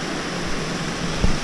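A waterfall along the Superior Hiking Trail roars as a loud, steady broadband rush of falling water, continuous and close, with no speech.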